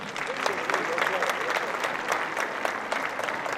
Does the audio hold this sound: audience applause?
yes